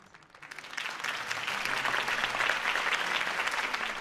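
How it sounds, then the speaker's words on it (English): Crowd applause fills the scene after a campaign speech in the Batman Telltale video game, swelling from a quiet start into sustained, dense clapping that holds steady to the end. "If only Mr. Wayne, my campaign's largest backer, could have heard that applause"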